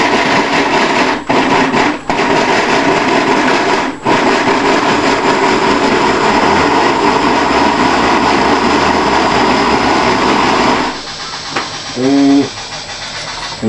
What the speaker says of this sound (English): We're just going to take our Mr. Juice Man here and sort of blend it up here.